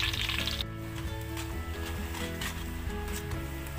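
Banana slices fry in hot oil for chips, giving a continuous bubbling sizzle, close and steady.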